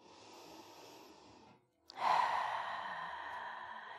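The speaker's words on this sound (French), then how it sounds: "Écoutez bien le son de votre respiration." Slow breathing during a yoga session: a soft exhale, a brief pause, then a long, deeper breath, close and quiet with no talking.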